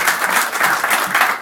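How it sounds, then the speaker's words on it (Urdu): An audience applauds at a gathering for British Pakistanis, dense steady clapping filling the whole moment, loud and close with no voices over it. "تالیوں کے ساتھ ان کا شکریہ"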